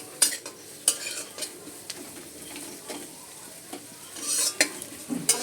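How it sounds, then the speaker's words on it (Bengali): Chopped onion and green chili fry in hot oil while a spoon stirs them, giving a steady close sizzle broken by repeated scraping strokes of the utensil against the pan. "তেলের মধ্যে পেঁয়াজ ও কাঁচা লঙ্কা কুচি দিয়ে দিয়েছি।"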